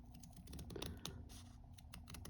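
DMC embroidery scissors cutting easily, giving a string of quiet, crisp snipping clicks close up, with no talk over them.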